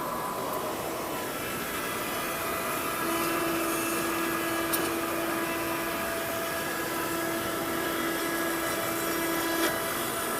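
An Oliver CNC woodworking carving router has its spindle spinning at 21,000 RPM, a constant high-pitched whine over a broad mechanical hiss that holds steady for the full ten seconds, with no talking.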